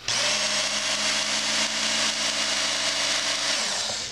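Belt-driven knife sharpening machine running steadily with a loud, continuous motor whine and belt hiss throughout, winding down near the end.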